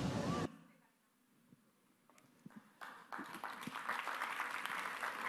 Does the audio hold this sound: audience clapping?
yes